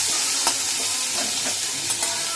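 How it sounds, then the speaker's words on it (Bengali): Food frying in a hot kadai, a steady hissing sizzle with occasional scraping stirs of a spatula, close and continuous. "দিয়ে এটাকে ভালো করে ভেজে নেবে, একটু লাল লাল করে"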